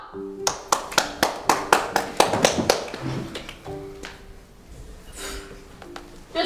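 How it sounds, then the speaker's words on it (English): A run of about a dozen sharp, evenly spaced hand claps rings out close by, followed by scattered softer claps and rustling, with voices talking lightly underneath. "Clap!"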